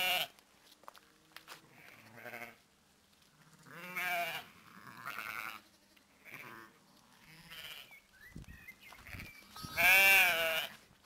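Sheep and very young lambs bleating in a farm field, several separate calls rising and falling over about eleven seconds, some close and loud, others fainter, with no talk.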